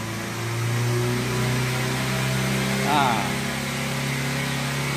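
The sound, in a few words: car engine revved to 4000 rpm, then released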